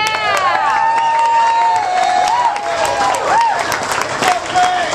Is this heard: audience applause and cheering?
yes